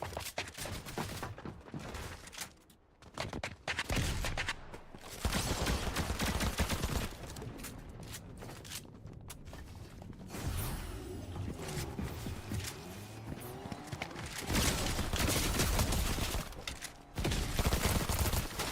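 Fortnite gameplay with SMG bursts and other gunfire crackling near and far in dense, continuous waves, layered over game effects.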